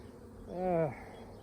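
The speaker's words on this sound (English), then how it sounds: "Good thing ideally about the swarm is the bees are relatively docile." A single honey bee from a swarm buzzes close by, its harmonic drone swelling and then fading over about half a second against quiet outdoor background.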